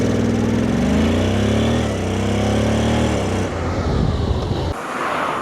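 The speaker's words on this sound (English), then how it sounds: "You listen to the engine." A Honda NC750 motorcycle engine with a dual-clutch automatic gearbox revs up close by, its pitch climbing and then dropping at each automatic gear change, before it settles into a rougher, lower idle.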